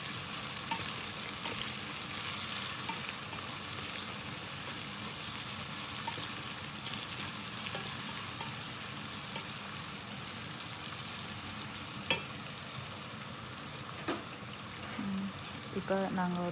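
Steady sizzling of onions frying in hot oil for chicken fried rice, with occasional scraping clicks of a spoon stirring the pan and a voice murmuring near the end.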